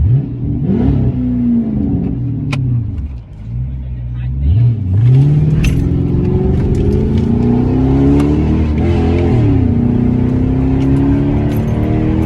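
A straight-piped Chrysler 300 C with a Hemi engine revs loudly and repeatedly, its deep exhaust rising and falling in sweeping pulls throughout, with people talking over it.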